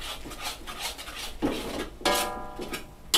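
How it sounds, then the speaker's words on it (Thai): Sauce with sugar being stir-fried in a pan for pink noodles, with scraping and clinking of a utensil against the pan in irregular strokes and a few louder metallic scrapes, close and without talk. "ผัดให้น้ำตาลละลายนะครับ"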